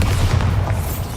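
Bombarda blasting spell in Hogwarts Legacy goes off in a deep, rumbling boom inside a mine, dense low-end blast filling the short moment without talk.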